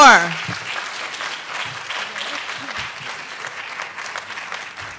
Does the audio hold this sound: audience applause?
yes